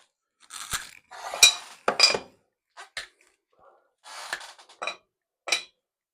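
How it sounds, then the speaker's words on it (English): Chocolate is broken into pieces by hand for a chocolate coconut macaroon bake, giving several short dry snaps and crunches separated by quiet gaps, with a few faint clinks. "So I like to break up my chocolate."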